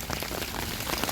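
Rain pattering steadily on an umbrella held while walking outdoors, a close, dense crackle of drops that stays even and fairly soft throughout.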